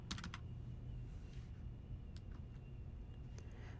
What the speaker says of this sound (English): Now I'm going to go ahead and use my keyboard's up arrow keys.